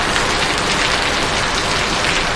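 Heavy rain pours down in Assam, soaking potted flower plants outdoors. It makes a steady, dense hiss of falling drops that holds at the same loudness throughout, with no voices.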